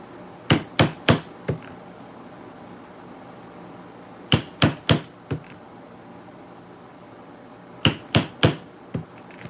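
A hammer strikes leather in three evenly spaced bursts of four crisp knocks each, close and sharp against quiet, steady room noise.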